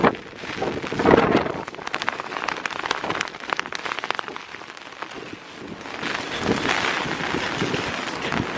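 Steady rain patters over gusts of wind buffeting the microphone outdoors in Ireland, surging loudly at the start and again near the end.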